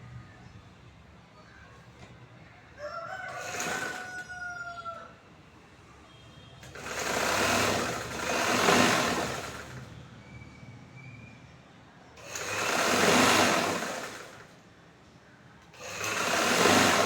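A sewing machine stitches a chudithar bottom in three separate runs of steady, rapid whirring, each lasting a couple of seconds, with a quieter pause and faint squeaks between them.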